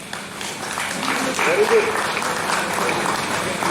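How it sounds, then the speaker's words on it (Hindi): An audience claps at a zonal railway ticket-checking meeting held by a division, approving accounts with steady, broad applause while a voice speaks briefly over it. "आप हाथ उठा के ताली बजा के इसको अप्रूव कीजिए"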